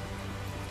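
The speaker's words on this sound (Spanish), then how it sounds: "Está lloviendo todo el puto día." Steady rain in the video game Tales of Zestiria, a dense even hiss of falling water that fills the whole short moment without any voices over it.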